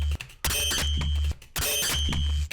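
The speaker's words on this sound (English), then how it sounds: "if you really turn it up, you hear this kind of distorted ringing kind of sound." A distorted, metallic ringing FM synth tone from the Vital synthesizer, driven from a sine wave, sounds in two loud sustained bursts separated by a short gap.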